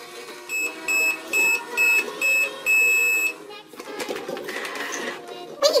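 Toy microwave playing a series of five or six loud electronic beeps in an even rhythm, followed by softer clicks and rattles of small toy parts close by.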